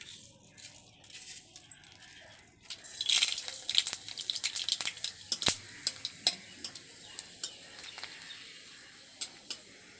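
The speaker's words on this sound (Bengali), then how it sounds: "এবার আমরা যে সরষা আর একটা শুকনো লঙ্কা নিয়েছিলাম সেটা এখন ফোড়ন দেব।" Mustard seeds and a dried red chili hit hot oil in a pan for tempering, starting with a soft hiss that swells into steady sizzling with scattered sharp pops and crackles, close and moderately loud, with no talking.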